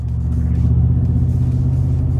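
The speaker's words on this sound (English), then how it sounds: "here we are, driving the truck, working with 2015 Ford F-150 Lariat" Cabin of a 2015 Ford F-150 Lariat four-wheel-drive pickup while driving, a steady low engine and road rumble droning continuously at close range with no talk.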